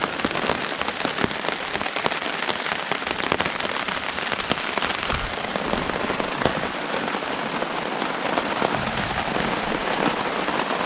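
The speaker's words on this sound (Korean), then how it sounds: "진짜 밤새도록 비가 왔어요, 밤새도록" Heavy rain drums steadily on a Hilleberg solo tent during an overnight backpacking downpour on a misty mountain ridge, a dense, close patter that fills the whole stretch without letup.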